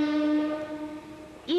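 Train horn from a 1990 Panasonic commercial, a sustained steady tone that fades, followed by a short rising horn blast near the end over low rumble.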